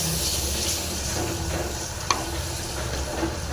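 Tomatoes and cardamom frying in a pan for rasam give a steady, close sizzle with faint stirring scrapes and one sharp clink partway through.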